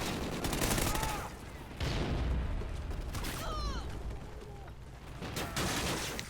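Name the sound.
Master Key underbarrel shotgun firing in Call of Duty video game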